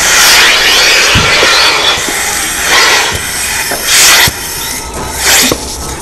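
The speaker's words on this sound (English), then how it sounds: "Now, listen to a traditional unit attachment." A traditional milking unit is attached in a parlor: a loud, harsh hissing rush of air with surging bursts and a few sharp clunks, noisier and rougher than steady machine hum, no talking.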